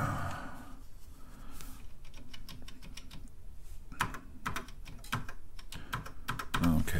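Steady clatter of keys on an old computer keyboard, close and fairly quiet, with irregular bursts of presses and a few louder clusters toward the end.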